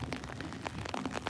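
Rain falls outdoors at the DC war memorials, a dense, continuous patter of drops on surfaces with scattered sharper splashes, faint and steady throughout.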